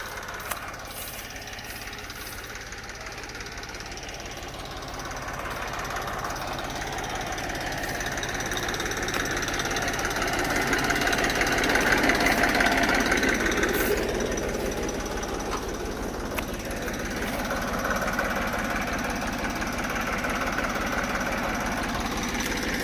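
A tractor engine runs steadily while a harrow is pulled through grass on a farm field, with a loud, continuous rough knocking drone that swells slightly midway, with no talk.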